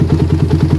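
A motorcycle engine fitted with a PWK carburetor runs in a short, steady burst, its close, regular low pulses thudding evenly with a faint hiss above them.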